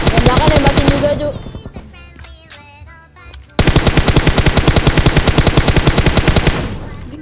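Automatic gunfire from PUBG on the Miramar map comes in two long, loud, rapid bursts separated by a short pause in which other shots and game sounds continue.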